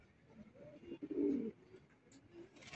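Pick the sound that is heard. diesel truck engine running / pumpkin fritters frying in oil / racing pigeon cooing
racing pigeon cooing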